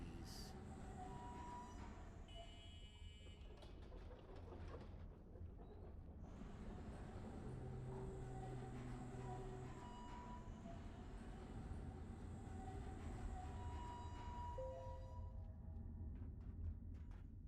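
A tram rolls along rails in the video game Abiotic Factor, a steady rumbling ride with clacking wheels, metallic squeals and occasional tonal chimes.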